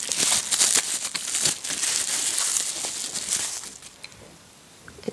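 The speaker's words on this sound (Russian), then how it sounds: "пупырчатом пакетике все это упаковано" Crinkly plastic bubble-wrap packaging bag from a cosmetics order rustling and crumpling up close, busy and continuous at first, then tapering to a few soft crackles.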